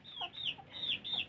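Caged chickens in a backyard coop cluck in short repeated bursts, about four quick calls at close range, fairly soft, with no one speaking.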